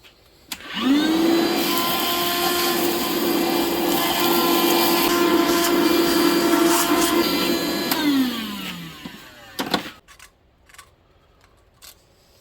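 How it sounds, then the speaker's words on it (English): A vacuum cleaner whirs up to a steady high-pitched drone, runs for several seconds, then winds down and stops, followed by a few faint clicks. "I'm going to go get my vacuum"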